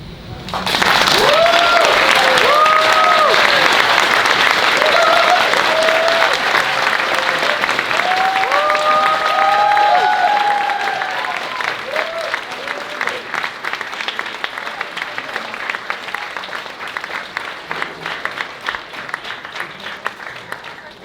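Audience applause following a poetry reading at a Saturday night literary feature, loud sustained clapping with speaking voices over it early on, then thinning and fading to lighter scattered claps.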